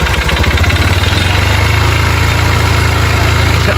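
A motorcycle engine with a fault noise idles loud and close, a fast, even throbbing pulse with a rattly mechanical edge holding steady throughout.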